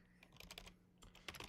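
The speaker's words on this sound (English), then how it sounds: "Trying to type NFL playoff picture and my fingers ain't getting to typing right." Fingers type on a computer keyboard in quick, uneven bursts of clicky keystrokes, with a short pause midway, faint and close, no voices over it.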